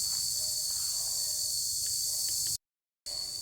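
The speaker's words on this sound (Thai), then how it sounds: "ตอนนี้ผมได้ยินเสียง น่าจะเป็นเสียงจักจั่นด้วยนะครับ กำลังร้องอยู่เนี่ยฮะ" A cicada's constant high-pitched drone buzzes steadily throughout, broken briefly by a short silent gap, with no talking.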